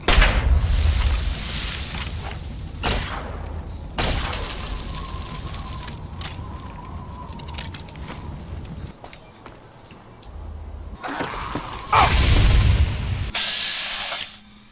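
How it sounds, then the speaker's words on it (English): A grenade blast in the Fallout Tale of Two Wastelands game, with heavy low booms near the start and a second loud burst toward the end amid scattered in-game action noise. "Oh, he's throwing a grenade at me."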